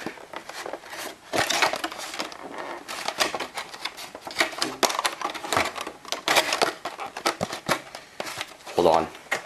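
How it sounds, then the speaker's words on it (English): Crinkly plastic packaging rustles and crackles in bursts as a Dubreq Stylophone Gen X-1 is unwrapped close up, with sharp tearing and handling noises throughout. "time to get this thing out of its plastic."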